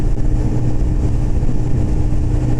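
A car engine runs flat out near 7,000 RPM, straining uphill against a headwind at about 55 mph, as a loud, dense, unbroken drone with no voice.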